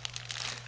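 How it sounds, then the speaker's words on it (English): A knife slits open a plastic bag from a bulk order of jars, giving a short, soft crinkling rustle close by, with no talking. "Let me get my knife and cut one of these bags open."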